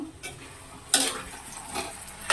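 Drumstick pieces cooking in oil are stirred in a pan, with a few distinct scraping strokes of a spoon over a low sizzle. The stirring comes in short bursts, close and clear, with no talking.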